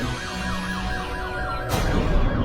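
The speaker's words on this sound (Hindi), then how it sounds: "ये तो पुलिस का सायरन है।" A wailing siren rises and falls repeatedly over steady traffic rumble, moderately loud and a little distant.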